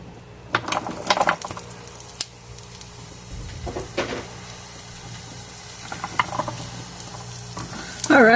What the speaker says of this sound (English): we're just going to saute up some onions for Glenn's smoked brat sandwich